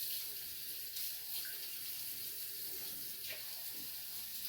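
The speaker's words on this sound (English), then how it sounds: "am using tap water" Tap water runs steadily from a kitchen faucet while warm water is drawn for activating yeast in a bread roll recipe, a constant soft hiss and splash with no talk over it.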